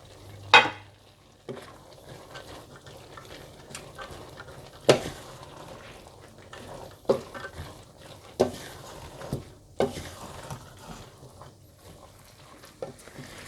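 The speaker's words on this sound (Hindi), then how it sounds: "आप इसमें ये मसाला डालकर मिला लें" Quiet stirring of spice paste into cooking lentils, with a spoon scraping and knocking against the pot in scattered soft strokes and a faint simmer underneath.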